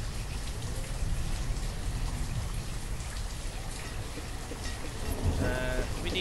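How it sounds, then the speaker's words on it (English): Rain falling in the video game Banished, a steady, fairly loud patter of drops with a faint tonal game sound near the end and no talk. "It's late summer. It's raining."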